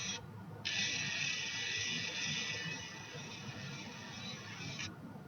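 Gibson Min-ETune robotic tuner turning a guitar string peg to loosen the A string: a steady, fairly loud high-pitched motor whir runs about four seconds after a brief start and pause, with no talk.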